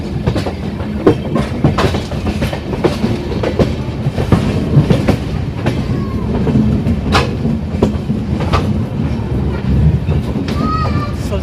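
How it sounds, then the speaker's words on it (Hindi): Indore–Patna express train arriving at Sultanpur railway station in India: loud, continuous rumble of railcars with rhythmic clickety-clack of wheels over joints and occasional faint squeals, close and steady throughout. "इसी के साथ ट्रेन सुल्तानपुर रेलवे स्टेशन पे अराइव करती हुई"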